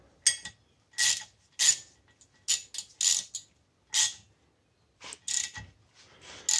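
A ratchet with a 12 mm socket threads a metric 8x1.25 bolt into a stuck brake rotor, giving close, crisp bursts of rapid clicking strokes with short silent gaps between them.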